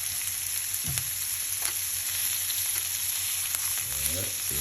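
Steak frying in a pan with garlic and butter, a steady close sizzle with a couple of brief stirring or shifting sounds and no talk.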